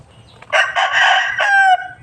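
A single loud, close rooster crow, one drawn-out call lasting over a second and rising then trailing off, heard alone.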